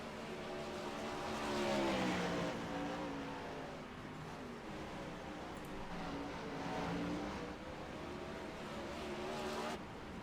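Dirt race cars at Port Royal roll back out after a big wreck, their engines revving up and easing off in overlapping waves, heard at moderate distance with no talk.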